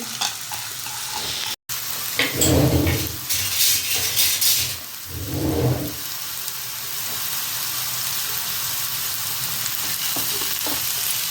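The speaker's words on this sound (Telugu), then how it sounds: "ఇప్పుడు కాస్త ఫ్రై అన్నమాట" Onions and green chillies fry in a pan for a crab curry, a broad steady sizzle with two louder bursts of stirring and scraping near the start, then an even hiss continuing alone.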